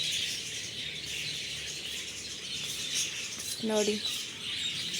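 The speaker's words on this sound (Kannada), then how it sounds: "ಲವ್ ಬರ್ಡ್ಸ್ ಇದು. ಎಷ್ಟು ಶಬ್ದ ಕೇಳಿಸುತ್ತೆ ಅಂತಂದರೆ ಒಂದು ಸೆಕೆಂಡ್ ಕೂಡ ಸೈಲೆಂಟ್ ಇರಲ್ಲ, ಸೌಂಡ್ ಕೇಳಿಸ್ತಾನೇ ಇರುತ್ತೆ." Lovebirds at a sand museum in Mysore give brief high chirps over a faint indoor hum, with a short spoken word nearby.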